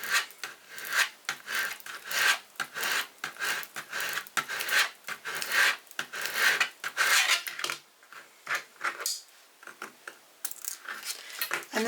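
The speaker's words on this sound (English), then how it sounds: "you want to be taking a scraper and scrape that on" A scraper rubbing and burnishing a transfer onto a glass jar makes close, rasping scrapes in quick irregular strokes, bursts separated by short gaps, with no talking.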